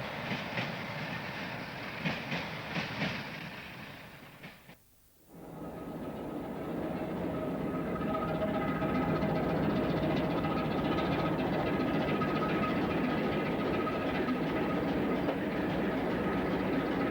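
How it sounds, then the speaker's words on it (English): A Class 47 Manchester-bound express passes the western end of Earl's sidings on the Sheffield to New Mills line, a loud, steady rumble and clatter of rail wagons that dips briefly before swelling into a sustained roar. "Class 47 Manchester-bound express passes the western end of Earl's sidings"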